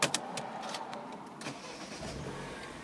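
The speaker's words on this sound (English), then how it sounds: "it is a push start, so we'll just get the car started up" A black manual Mini Cooper S Convertible is push-started, with an opening click and clatter as the engine cranks, then a steady mid-pitched idle running close by.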